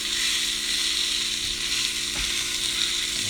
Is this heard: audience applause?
no